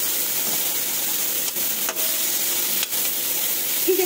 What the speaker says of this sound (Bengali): আর ফুলকপিটা কিন্তু আমি সুন্দর করে ভাজবো বন্ধুরা, একদম লাল লাল করে ভেজে নেবো